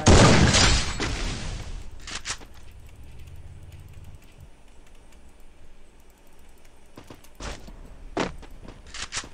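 Gunfire in the Free Fire video game, a loud burst at the very start followed by scattered sharp single shots, with quiet rumbling gaps in between.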